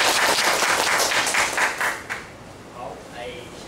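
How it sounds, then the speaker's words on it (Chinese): An audience at a hiking-trail design class claps in welcome, a dense burst of applause that fades out after about two seconds, followed by quieter room sounds. "那如果没有其他问题我们就掌声欢迎老师。"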